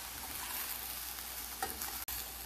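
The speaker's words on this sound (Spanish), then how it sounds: "Suavemente se va a sofreír." Vegetables for a sweet-and-sour tuna antipasto, including onion, gently sautéing in a pan over very low heat; a steady soft sizzle with a brief stir or clink near the end, no voices.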